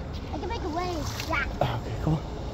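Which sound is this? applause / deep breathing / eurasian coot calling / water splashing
water splashing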